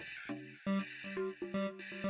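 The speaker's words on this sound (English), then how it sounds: "Hit a tabla." A synthesized tabla sample is struck in a short pattern of pitched, resonant hits with quick decays, several strikes in about two seconds, fairly quiet and without speech.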